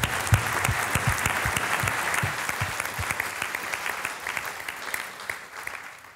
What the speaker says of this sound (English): It deserves a round of applause, I think,